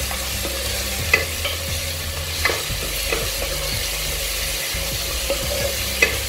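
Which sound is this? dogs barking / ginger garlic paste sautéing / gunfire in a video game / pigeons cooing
ginger garlic paste sautéing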